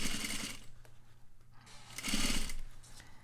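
A sewing machine stitches a long curved seam in two loud bursts, at the start and again near the end, with a quieter pause between.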